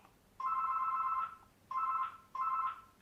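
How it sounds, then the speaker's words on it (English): A mobile phone rings nearby in three electronic tonal bursts, the first long and the next two shorter, sharp and clear over a quiet room. "That's my phone"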